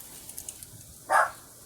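A single dog's bark rings out once, short and moderately loud against a quiet background, with a few faint clicks before it.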